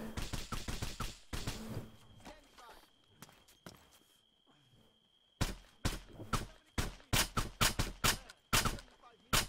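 Rapid bursts of gunfire in Arma 3, sharp cracks in quick volleys, pausing briefly midway before resuming in dense repeated shots.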